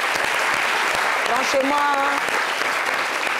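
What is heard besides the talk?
audience applause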